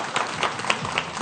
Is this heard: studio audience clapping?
yes